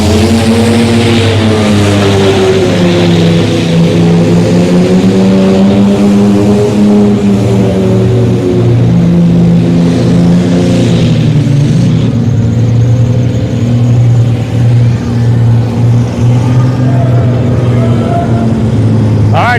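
Big mud bog trucks at a live deep-mud event in Orangeburg, one engine roaring loud and continuous with shifting revs as it throttles through, over a steady crowd and announcer voice.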